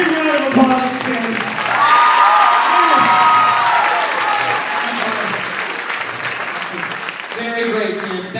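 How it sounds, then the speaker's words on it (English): Loud applause and cheering from an audience at a percussion performance event, sustained clapping with whoops and excited voices shouting over it throughout. "Big round of applause for Kim."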